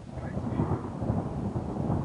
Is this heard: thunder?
yes